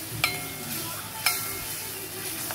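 Buttermilk kadhi being stirred into a hot tempering in a pan, a couple of sharp clinks of the spoon against the pot over a soft steady sizzle, close by with no talk.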